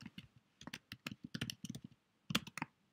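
A file name being typed on a computer keyboard while saving an image, a close, fairly steady run of crisp key clicks with brief pauses and a louder flurry near the end.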